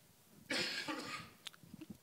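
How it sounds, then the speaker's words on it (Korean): A single close, harsh cough followed by a few smaller throat sounds in an otherwise quiet room. "옆에서 계속 기침을 하고 있어 시끄러워가지고요."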